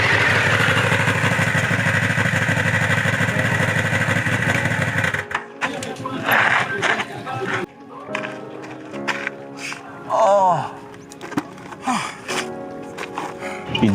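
A motorbike engine runs loud and steady for about five seconds, then cuts away to quieter, broken sounds with brief noises and short bursts.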